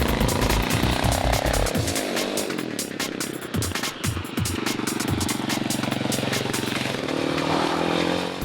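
A loud CCM R30 supermoto's oil-cooled 644cc single-cylinder Suzuki engine, with twin carbs and twin spark ignition, revs and idles with a rough, chugging thump, rising and falling throughout, close by with no talking.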